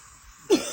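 A single cough rings out near a lake, bursting suddenly after quiet and trailing into a strange, lingering ringing echo across the water.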